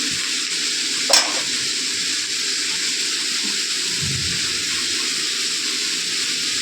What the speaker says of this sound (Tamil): பூண்டு கொஞ்சம் ரெண்டு கலர் ஆன அப்புறம் நம்ம அதை பன்னீரும் குடமிளகா எல்லாம் போட்டு வச்சுட்டு நம்ம போட்டு